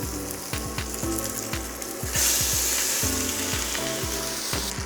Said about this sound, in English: I've got about a kilo of lamb loin chops that I'm going to go ahead and start browning.